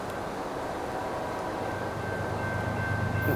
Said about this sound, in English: I swear the trains are louder.